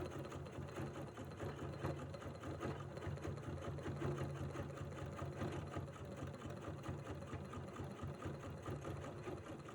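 A sewing machine stitches over couched fibers, running steadily and continuously with a dense mechanical hum and rapid needle rhythm throughout, moderately close and unbroken by talk.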